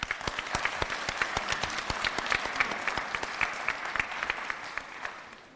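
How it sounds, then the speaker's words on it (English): An audience at a School of Education pinning ceremony gives the graduates sustained applause: dense, even clapping from a large crowd, with a few louder individual claps standing out throughout. "Let's give our graduates one more round of applause."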